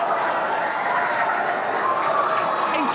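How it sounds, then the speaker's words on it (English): Crowd cheering at a SpaceX Starship test launch during the first successful hot staging: a dense, continuous wash of distant cheering and roaring voices, steady and loud for the whole moment with no single voice standing out. "You're hearing the cheering."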